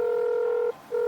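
Telephone dialing in the Dave The Diver video game, a clean steady dual-tone beep held for most of a second, a short gap, then the tone starting again.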